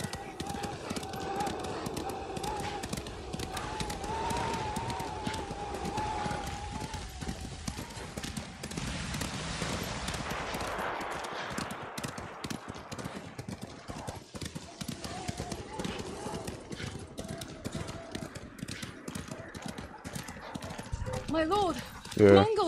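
Horse hooves clop in a steady galloping rhythm while riding in Ghost of Tsushima, continuous and moderately close beneath game dialogue and music.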